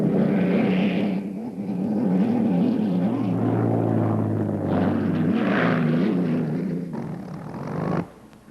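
Unlimited hydroplane race boat powered by a 3,000-horsepower Rolls-Royce aircraft engine, roaring loud and steady with harmonic drone and surging pitch, close by, cutting off near the end.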